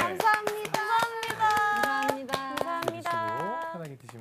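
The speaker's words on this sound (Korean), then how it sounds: "박수 한번 주세요 우리 제작진분들께." Hand clapping at a Korean public recording show, an audience round of applause for the production crew, with sharp repeated claps mixed under loud voices and tonal sound.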